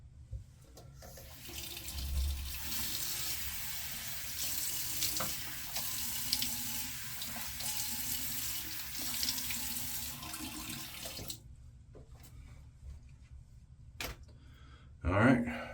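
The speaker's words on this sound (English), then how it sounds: "let me get some more water" Tap water runs steadily into a bathroom sink for about eleven seconds during a travel shave, then cuts off, leaving faint clinks and handling sounds.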